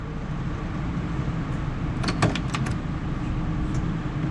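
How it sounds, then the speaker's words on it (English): Against a steady hum, the door of a 1969 Chevrolet Camaro SS 396 is opened with a quick cluster of sharp clicks and latch sounds partway through. "We'll open up the door and show you the interior."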